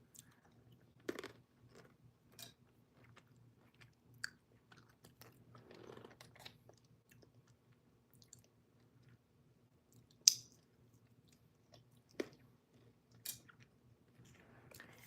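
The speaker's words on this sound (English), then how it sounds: "If you hear me munching, I'm sorry." A person munches and crunches food near the microphone, with sharp isolated bites and chews scattered across a quiet room. Some crisp clicks stand apart, with low steady hum between them.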